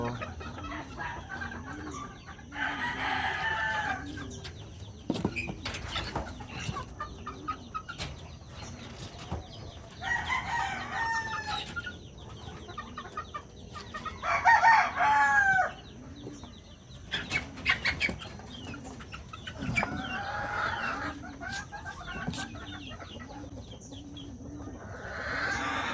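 Backyard chicks cluck and squabble in bursts of excited peeping and chattering. The sounds are close and moderately loud over a low background murmur.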